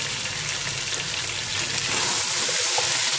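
Chicken pieces fry in hot oil in a pan for a chicken achari chana dal, giving a steady, dense sizzle throughout that swells slightly toward the end, close and continuous with no talking.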